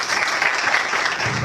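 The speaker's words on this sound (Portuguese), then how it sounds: "eu gostaria de nós batêssemos palmas para vocês" Steady applause from an audience at a talk on election-day conduct, dense hand clapping sustained evenly throughout, with faint murmurs underneath.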